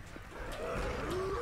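A low, growling roar from the Tank in Left 4 Dead 2 rises over about a second, a close guttural bellow that swells and holds at the end.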